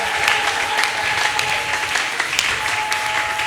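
A church congregation bursts into loud sustained applause, many hands clapping densely and evenly throughout, close and full with no voices rising above it.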